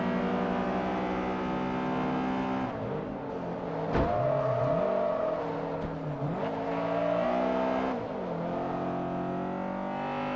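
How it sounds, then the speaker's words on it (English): A racing car engine drones and revs through gear changes, with a thin, high turbo whistle rising over it twice, each lasting about a second. "you can hear the turbo whistle from the Seat"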